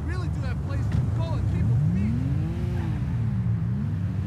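Car driven in GTA 5, a loud continuous engine roar with a rising and falling pitch sweep as it revs, steady and close throughout.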